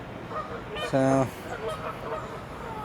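Geese honk by the water at a magnet fishing spot, one loud clear honk standing out in the middle among fainter calls, while someone speaks briefly nearby.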